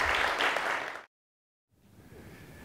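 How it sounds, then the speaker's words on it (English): A seated audience claps for a composer's father, a dense burst of applause that cuts abruptly into silence, then resumes much fainter and more distant for the last second. "Please give him a warm round of applause."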